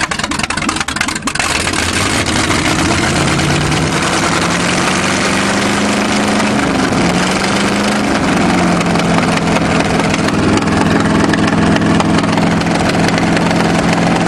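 A homemade Cheviac car engine runs fast and steady after a choke adjustment, loud and close with a sustained rising hum that settles high, no voices over it.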